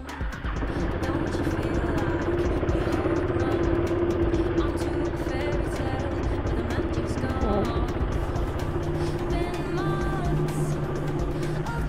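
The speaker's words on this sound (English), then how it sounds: "So let me warm up the bike." A motorcycle engine idles steadily as it warms up on a trip out of Bengaluru, a continuous low throbbing hum with faint clatter, close and even throughout, and brief, indistinct voice sounds surface now and then.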